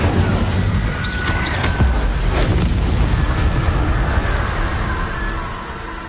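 A fire spell blazes in Hogwarts Legacy as a continuous roaring whoosh of flame, loud and close throughout, fading slightly toward the end, with no voices.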